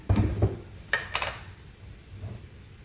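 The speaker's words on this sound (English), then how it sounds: "I'm going to put the 2 tablespoons of baking powder in this" A spoon clinks against a mixing bowl while baking powder goes in for buttermilk biscuits. Two quick taps are followed by a brighter scrape and clatter, then a softer rub.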